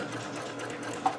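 Sewing machine stitching a quarter-inch seam on a traditional pinwheel quilt block, a steady close whirring hum running continuously, with a small click near the end.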